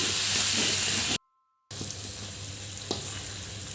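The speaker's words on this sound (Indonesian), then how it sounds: "Ini kita aduk kembali dan masak bumbunya ini sampai benar-benar matang." Bumbu paste for sambal goreng kentang ati ampela sizzles steadily in a hot pan, a continuous close frying hiss that cuts out briefly and then resumes alone, with a soft stirring knock near the end.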